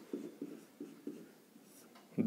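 Pen scratching on paper during a maths lesson, a quick run of short strokes in an uneven rhythm, close and quiet against a faint room background.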